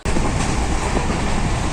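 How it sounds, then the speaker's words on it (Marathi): Passenger train starting to move: steady loud rumbling rail noise with faint rhythmic wheel clatter, continuous throughout without voices. "आता रेल्वे स्टार्ट झाली आहे."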